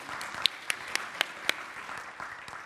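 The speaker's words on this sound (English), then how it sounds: "let's give them all a nice round of applause" Audience at a lecture event clapping together, a steady patter of many hands with a few sharper individual claps standing out, moderately loud and continuous with no speech.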